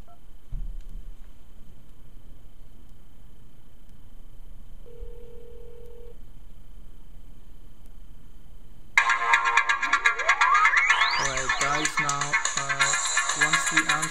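A Motorola Droid running Android 2.0.1 rings with an incoming call, a loud repeating ringtone melody that starts abruptly after a quiet stretch with a faint electronic tone.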